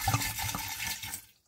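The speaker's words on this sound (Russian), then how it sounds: "И сейчас я сюда заливаю дистиллированную воду" Distilled water pours into a container, a steady near splashing trickle for about a second that tapers off into silence.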